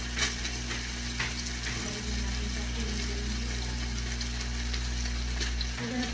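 Chicken longganisa sausages sizzling and frying in a pan for breakfast, a steady close crackle with occasional louder pops throughout, a faint low hum underneath.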